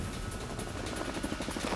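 A helicopter flying, its rotor chop pulsing rapidly and steadily under a loud wash of engine noise, close and continuous with no voices.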